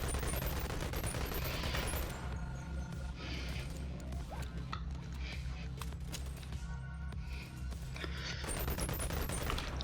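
Submachine gun fire in the VR shooter Boneworks, dense bursts of rapid shots running loud and close through most of the stretch, with brief lulls and faint talk underneath.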